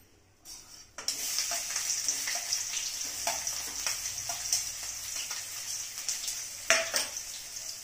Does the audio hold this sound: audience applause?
no